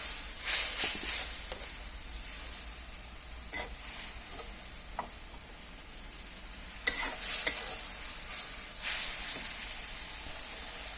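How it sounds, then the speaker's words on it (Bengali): Minced chicken is stir-fried in spice masala in a pan, giving a close, crackling sizzle with repeated scraping strokes of stirring that rise and fall in uneven bursts, with no talk. "মাংসটা কিমা করা সেটা দিয়ে দিচ্ছি। এখন এই মশলার মধ্যে আমরা ভালোভাবে এটাকে কষিয়ে নেব।"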